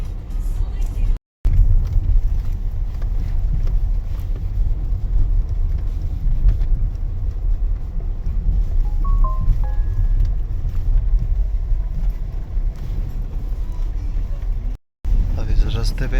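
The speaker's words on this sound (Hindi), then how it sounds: "अब इस रास्ते पे टायर स्लिप होना शुरू हो गए हमारे. लेकिन ये कार थोड़ी मजबूत है तो निकल जाएंगे." A car grinds along a rough marble quarry road with its tyres slipping, a steady close rumble of engine and road noise running throughout, broken by two brief dropouts, while people talk over it.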